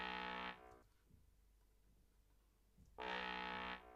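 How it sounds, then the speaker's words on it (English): A bass trombone synth patch for grime plays two short, buzzy, distorted notes separated by a quiet gap of low rumble. "a lot of grime tunes just use this like really evil trombone sound"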